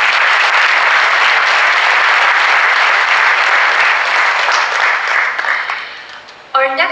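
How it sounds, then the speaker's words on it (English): Sustained applause from a conference audience at a Samsung SSD summit in Seoul, steady and full for several seconds before tapering off, with a voice cutting in at the end. "please give Mr."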